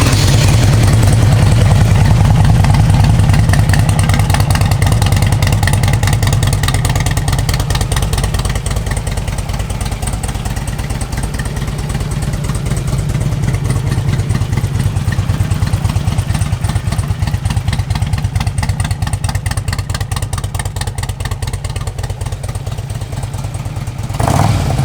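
A 2004 Harley Davidson Electra Glide Classic with modifications runs steadily close by, its engine giving a continuous loud, lumpy idle with a clattering, throbbing rhythm that holds for the whole stretch.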